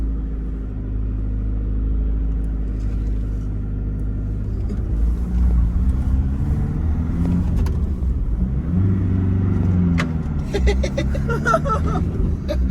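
A manual transmission car drives along with a low, steady engine rumble, the pitch rising and shifting in gentle sweeps as it accelerates, some faint clicks and rattles near the end.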